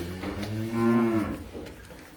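A white Ongole crossbred cow lets out one loud, drawn-out low moo that swells in the middle and fades, heard close with no talk over it.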